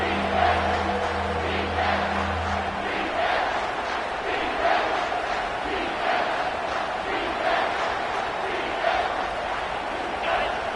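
A stadium crowd roars at a college football game between Kansas State and Ohio State, a sustained loud wall of yelling and noise swelling in waves, with a low rumble fading early on.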